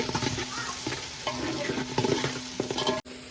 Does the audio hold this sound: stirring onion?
yes